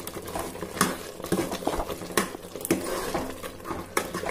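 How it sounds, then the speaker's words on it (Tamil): Chicken masala being stirred in a pan for a home-cooked chicken curry, with repeated scraping and clattering strokes of a spoon against the pan and a soft sizzle underneath, close and moderately loud. "நல்லா கலக்கி விடலாம்"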